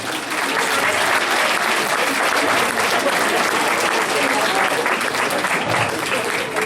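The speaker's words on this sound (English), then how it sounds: "Let's give them all a big round of applause." Sustained applause from a grad night hypnotist show crowd, dense and steady clapping that holds for several seconds at full strength.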